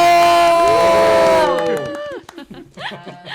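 A studio audience cheers and shouts on cue during a Korean talk podcast, a loud burst of mixed voices that quickly fades into talk.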